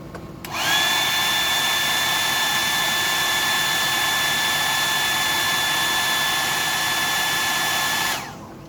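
A hair dryer switched on to dry paint on a juvenile bass fishing lure, a steady loud whine and rushing air running about seven seconds before cutting off.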